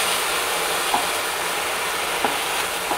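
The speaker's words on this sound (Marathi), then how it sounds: "आता हा बटाट्याचा किस पण आपण ह्याच्यात छान परतून घेऊ।" Grated raw potato sautéing in a pan gives a steady, even sizzle throughout, with a few faint spatula taps spaced apart.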